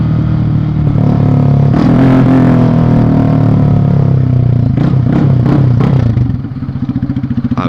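A motorcycle with a loud aftermarket exhaust revs hard at close range, a sustained roaring blare followed by sharp throttle blips and a lumpy, pulsing idle as it settles at a traffic light.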